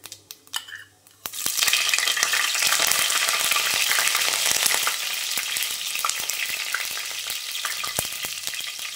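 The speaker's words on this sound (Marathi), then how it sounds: "मी तेल तापवत ठेवलं आहे। आता आपण यात जिरे टाकूया। जिरे, 2 ते 3 हिरव्या मिरच्या," Cumin seeds and green chilies drop into hot oil for dal dhokli. A few clinks come first, then a loud, close, continuous sizzle and crackle of spluttering seeds that slowly eases.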